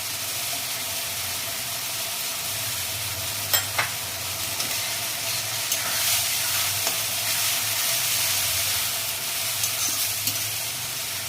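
Garlic and ginger paste sizzling and frying in a pan while being stirred, a steady close hiss for a raw jackfruit curry masala, with a few sharp scrape clicks from the spoon.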